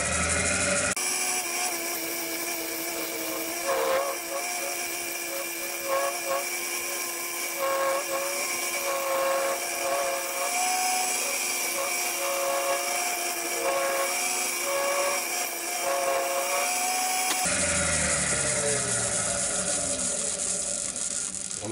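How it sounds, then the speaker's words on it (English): A round nose scraper cuts a maple bowl spinning on a wood lathe, giving a steady, close, continuous whirring scrape with slight wavering tones for about sixteen seconds before the cut stops and the lathe spins on alone. "Just using a round nose scraper."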